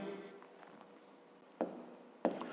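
A pen scratches on paper while working a fifth-grade maths exercise, quiet and close, with faint steady strokes ending in two slightly sharper marks, no talking.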